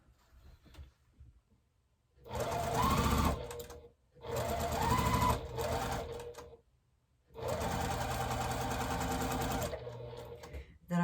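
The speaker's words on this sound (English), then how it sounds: "I'm going to start over here and get this block sewn up" A sewing machine stitches a quilt block in three sustained runs of fast, steady whirring and needle chatter, separated by short pauses, close and alone without talk.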